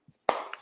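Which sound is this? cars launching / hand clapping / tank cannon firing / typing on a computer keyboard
hand clapping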